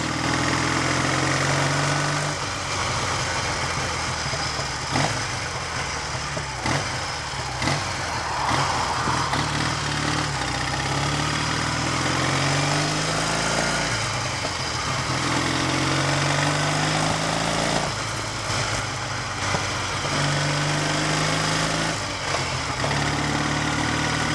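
A Triumph Tiger 100 motorcycle engine runs steadily at close range, a loud throbbing drone that rises and dips slightly, with no voices.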